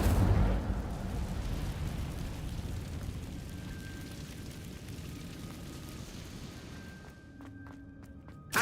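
In a Harry Potter video game, the Incendio fire spell releases a loud whooshing burst of flame that roars steadily for several seconds and then fades, ending in a few faint clicks.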